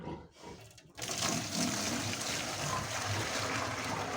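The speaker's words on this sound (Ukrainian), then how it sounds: "Виливаю другу каністру." Liquid poured out of a canister, a steady gushing splash that starts abruptly after a quiet second and runs on evenly and close, with no voice over it.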